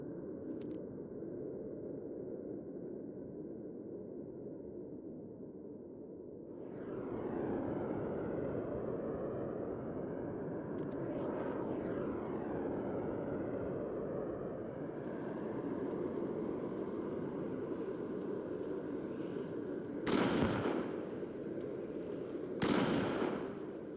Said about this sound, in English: survive the bombing raid